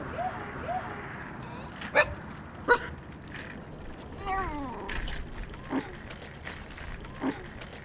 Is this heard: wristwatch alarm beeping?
no